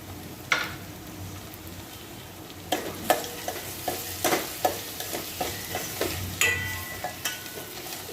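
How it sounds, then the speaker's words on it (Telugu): Chopped tomatoes go into a pan of fried onions, setting off a loud steady sizzle with a sharp burst at the start and rhythmic scraping stirs repeating every half second or so, no speech. "ఇలా ఉల్లిపాయలు వేగిన తర్వాత దీంట్లోకి కోసి పెట్టుకున్న టమాటోలు వేసుకోవాలి"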